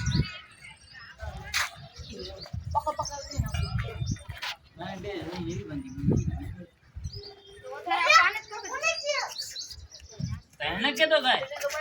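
Pigeons gather around a Gujarati chhakda auto-rickshaw, giving scattered chirps and calls in short bursts over nearly continuous conversation nearby.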